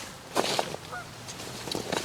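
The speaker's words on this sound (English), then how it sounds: "Just heard some geese go over." Geese honking as they fly over a lake during a solo overnight canoe trip, several short calls spread across the moment, fairly distant and soft over quiet outdoor background.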